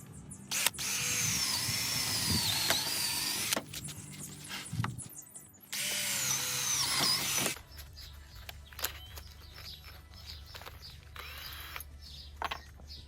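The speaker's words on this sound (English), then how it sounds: "I'm just drilling the holes through for the mounting points." A power drill whirs loudly in two sustained bursts while drilling mounting holes in a Mercedes van dashboard, with brief pauses between, followed by quieter clicks and handling noises.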